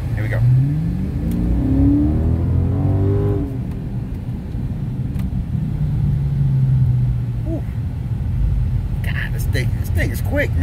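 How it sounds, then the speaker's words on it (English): A 2018 Dodge Challenger R/T Scat Pack pulls hard under acceleration, its loud engine note rising in pitch over the first few seconds and then settling into a steady heavy rumble, with a person speaking near the end. "Thing is quick, man."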